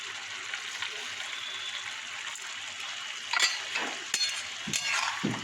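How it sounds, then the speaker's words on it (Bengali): Dal with sugar is stirred in a hot pan, giving a steady frying sizzle with some watery bubbling and occasional spoon scrapes and knocks, close and alone without talk. "দিয়ে একটু নাড়াচাড়া করি"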